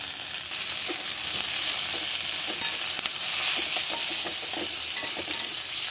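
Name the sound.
stirring fried okra with pickle spice in a pan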